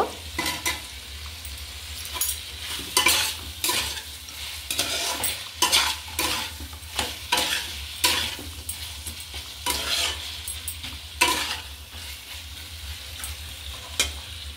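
Potatoes with ginger paste fry in a pan under constant sizzling, stirred with a spatula in repeated close scraping strokes that rise and fall in a loose rhythm throughout.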